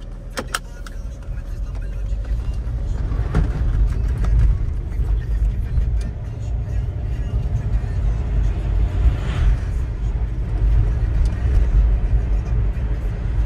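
An Audi diesel car pulling away on freshly added diesel with a fuel-system cleaner, its engine and road rumble a steady, loud, low drone from inside the cabin, with a few faint clicks early on.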